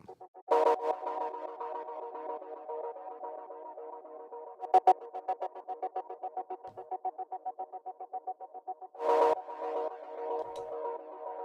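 Short plucked harp-like blips repeat in a choppy pattern, each note smeared by heavy reverb and echo, with a few brighter bursts standing out.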